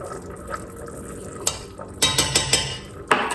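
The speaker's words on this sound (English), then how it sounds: "Sorry for the loudness against my pot there." A spoon stirs a no-bake oatmeal chocolate bar mixture in a cooking pot, with soft scraping broken by several sharp, loud knocks of the spoon against the pot's side.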